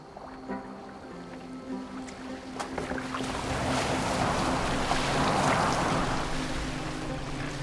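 A boat pushing through water in Assassin's Creed Valhalla, a soft wash and rushing swell building after a few seconds into a steady, moderately quiet surge of water.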